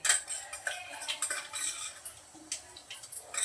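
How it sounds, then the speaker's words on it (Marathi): A spoonful of mustard seeds tips into a cooking pan, making light clinking and rapid ticking patters, close and fairly quiet, with a few sharper metallic taps of the spoon. "आणि आता इथे मोरी घालते चमचा भरून मोरी घातली"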